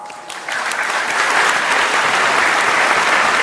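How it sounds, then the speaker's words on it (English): An audience applauds young performers from Bali at a conference event in Jakarta. Loud, sustained clapping swells after a brief quieter start and continues steadily to the end. "Let's give them another round of applause."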